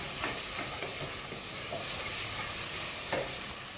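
Ingredients fry in oil in a pan, giving a steady, fairly quiet sizzle and hiss with occasional stirring scrapes throughout, close up and without talk.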